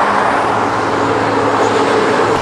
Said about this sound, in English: Standing on the highway, waiting for the bus.